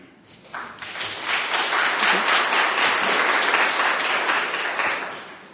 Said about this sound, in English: Can I just ask you perhaps to hold your applause until we've got right to the end of the question?